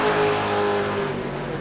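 V8 race cars accelerating hard on a circuit, a loud continuous engine roar with a steady high whine that holds close and full throughout.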